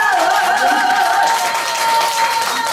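A group at a monthly gathering in a grilled-meat restaurant claps together, a close, dense burst of applause over a steady tonal hum.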